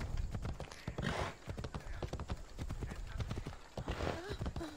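Horse hooves clip-clop steadily in Assassin's Creed Odyssey, a quick, even trotting rhythm that runs throughout at moderate loudness, with faint game ambience and some voice-like sound mixed in.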